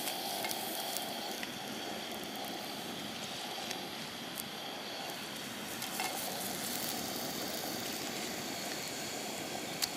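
Curry leaves fry in hot oil in a pan while fish is prepared, giving a steady, close, crackling sizzle that holds evenly throughout with no voices.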